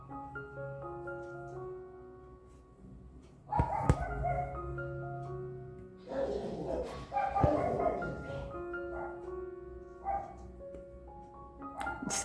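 Several household dogs, including a small female dog, break into loud bursts of barking nearby. A person's voice is also heard between and under the barks.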